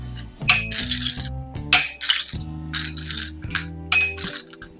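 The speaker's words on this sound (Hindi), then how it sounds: "पहले डालेंगे आइस क्यूब।" Several ice cubes dropped one after another into a serving glass for a peach margarita, giving bright clinks and ringing knocks in an irregular run, close and clear with no talking.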